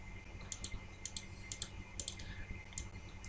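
Computer keyboard keys are pressed in quick pairs of sharp, close clicks, including backspace presses, repeated about five times over a few seconds in a quiet room.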